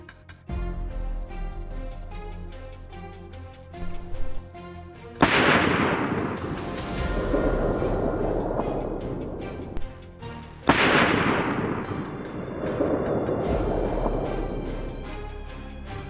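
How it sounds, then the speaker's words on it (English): Rifle shots fired at two wild boars on a Texas farm: two sharp, loud cracks several seconds apart, each followed by a long rolling echo, over faint background music. "The sharp crack of the rifle startled them"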